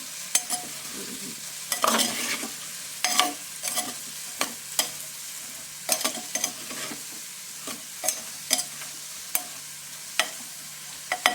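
Curry being stirred and mixed in a pan over a faint sizzle, with regular sharp spoon knocks against the metal every second or so, close and fairly loud, no voices.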